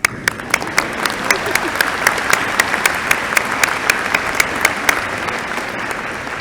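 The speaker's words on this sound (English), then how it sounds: "we can clap for them anyway" An audience at a university commencement claps for graduates, with a burst of sharp, fairly evenly spaced claps building then thinning, sounding like a modest crowd in a hall.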